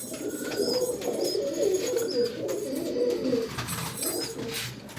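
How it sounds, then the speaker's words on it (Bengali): Several pigeons coo in a cage, low throaty rolling calls overlapping close by, with a few thin chirps from other birds in the background and no speech. "আমার বাড়ির সব থেকে বেস্ট পায়রা যেটা বলতে পারেন"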